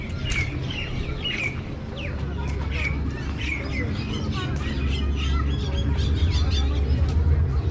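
Birds in the large aviary at Peshawar Zoo, with peafowl among them, give repeated chirps, squawks and clucking calls over a constant low hum, while someone talks nearby.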